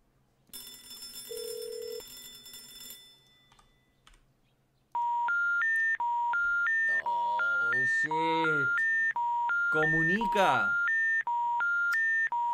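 Electronic phone dialing tones beep in a steady rhythmic sequence of pitched notes, loud and clear, after a brief burst of noisy game-like sound at the start, in the video game Hello Neighbor.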